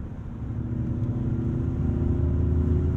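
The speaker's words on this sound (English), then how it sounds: "I like the propulsion sound, too." A 2022 Ford F-150 Lightning electric pickup accelerates, giving a low, steady rumbling drone that swells slightly over a few seconds, heard from inside with no talking.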